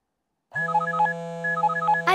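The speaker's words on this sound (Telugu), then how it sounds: "అచ్చుకి ఫోన్." A phone begins ringing after a short silence with an electronic melodic ringtone, a repeating bright tone pattern over a steady hum, clear and close, with no voices.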